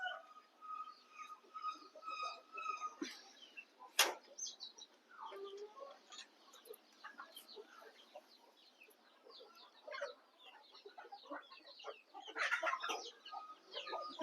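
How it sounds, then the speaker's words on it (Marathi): Backyard chickens cluck and murmur while drinking sugarcane juice, several birds giving soft overlapping clucks with a few sharper calls, moderately near. "बघा आपल्या कोंबड्या किती आवडीने पितात."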